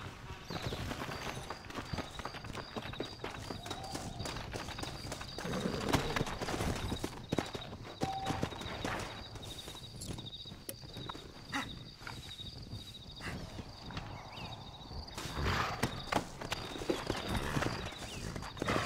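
Steady clip-clop of horse hooves from the Western video game Red Dead Redemption, a close, continuous trotting rhythm layered with game ambience and music, no voices.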